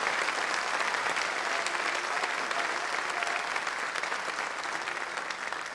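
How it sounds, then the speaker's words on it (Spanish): Sustained applause from a church congregation fills the whole stretch, a dense even clatter of many hands clapping at once. "recibe este aplauso de la congregación"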